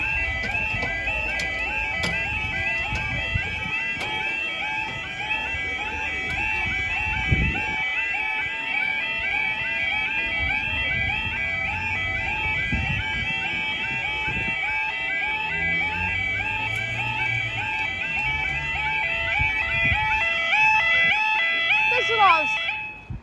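A level crossing alarm at Lincoln High Street sounds throughout as a steady, repeating warbling tone pattern, with people talking and street noise underneath.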